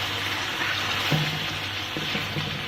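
Chicken pieces fry with garlic and ginger for karahi, a dense steady sizzle with faint clinks of a spoon against the pan throughout.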